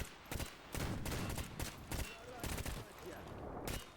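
Rapid bursts of automatic gunfire in S.T.A.L.K.E.R. GAMMA, sprayed into a bush in the Pripyat area, loud and close in repeated volleys separated by brief pauses, with someone talking over the shooting.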